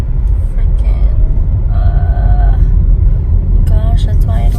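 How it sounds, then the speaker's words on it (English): Car interior traffic noise while driving, a loud steady low rumble of road and engine throughout, with brief higher tones and a voice heard over it in places. "Gosh, traffic is always like this, guys."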